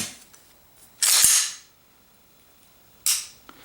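A Glock 17 Gen 5 MOS handgun gives two short, sharp mechanical trigger reset clicks about two seconds apart. The clicks are close and crisp in an otherwise quiet room.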